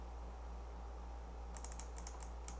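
Computer keyboard typing, a quick run of light clicking keystrokes starting partway through, faint and distant over a steady low electrical hum, no voices.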